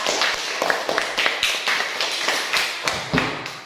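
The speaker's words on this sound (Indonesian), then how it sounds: "Anak-anak, tepuk tangan dulu untuk kita semua." Schoolchildren in a classroom clap their hands in a steady rhythm of sharp, distinct claps, about a dozen beats in under four seconds, loud and close.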